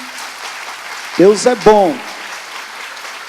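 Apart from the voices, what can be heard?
congregation applauding in church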